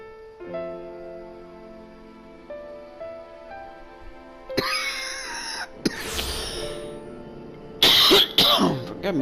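Coughing and throat clearing from someone fighting a cold, a few harsh bursts breaking in after a stretch of steady tonal game music, close and fairly loud.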